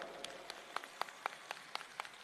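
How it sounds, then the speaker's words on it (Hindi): An audience at a school event claps to welcome performers, producing a sparse, thin patter of individual hand claps at moderate distance with no voices. "तालियां बजा के स्वागत कीजिए।"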